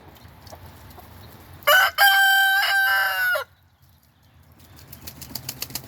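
A rooster crows loudly once in the middle, a long stretched call standing out against faint homestead background noise and soft clucking of chickens.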